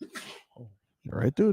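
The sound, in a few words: sneeze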